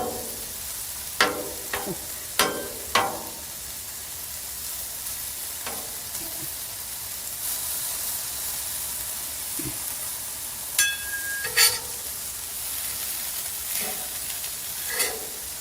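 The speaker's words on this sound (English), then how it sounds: "Let's get these hash browns flipped, stirred, whatever you want to call it." Hash browns frying on a Blackstone flat-top griddle, a steady hiss of sizzling grease broken by several sharp scrapes and taps of a spatula stirring and flipping them; no voices.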